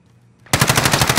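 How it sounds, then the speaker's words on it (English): Sudden sustained automatic gunfire erupts from behind in a Warzone match, loud and rapid with a steady rattling rhythm after a brief quiet lead-in, no voices over it. "shooting from behind, coming this way"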